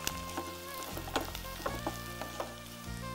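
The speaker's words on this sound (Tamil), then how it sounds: "இந்த ஹை ஃப்ளேமில் தான் வச்சு வதக்குறேன்." Onions sautéing in a pan over a high flame, a continuous crackling sizzle with light scattered pops and stirring scrapes, close and steady with no voices.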